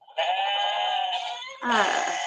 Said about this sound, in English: I think you liked the screaming goat, Kimberly.